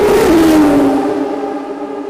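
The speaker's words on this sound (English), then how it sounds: "There's not many better sounds in the world of sports cars and prototypes than that incredible V12." A Ferrari 333 SP V12 prototype race car screams past on the pit straight during a rolling-start race, its high engine note loud up close and dropping in pitch as it moves away.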